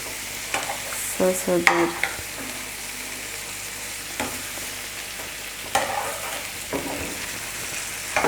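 Breakfast sausages sizzle in a frying pan with a steady broadband crackle, while a utensil stirs and scrapes in intermittent bursts, close and fairly loud. A voice speaks briefly near the start.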